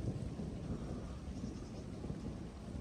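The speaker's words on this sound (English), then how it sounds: "Guys, it's thundering out here." Thunder rumbling outdoors in daytime near a field entrance, a continuous low, heavy roll with rain-like hiss, steady and fairly loud with no voices.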